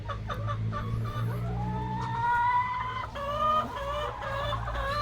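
Dekalb Brown laying hens in a flock of about 55 cluck steadily nearby, with overlapping calls and a few louder, rising squawks over a constant low farmyard hum.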